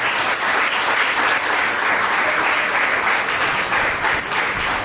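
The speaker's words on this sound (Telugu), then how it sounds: "గట్టిగా చప్పట్లు కొట్టి ప్రభువుని గణపరుద్దాం." A church congregation claps loudly together at a Christmas service, a dense, steady, rhythmic roar of many hands that stays close and even throughout, with no voices over it.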